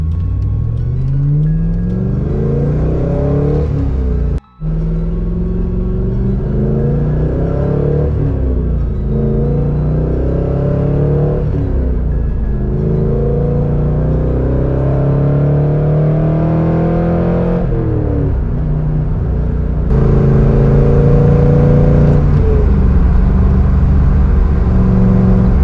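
A 2003 Chevrolet Corvette C5 Z06 accelerates hard on the road, its engine rising through repeated climbing pulls with brief drops at each gear change, a loud, close, continuous rumble with no talking.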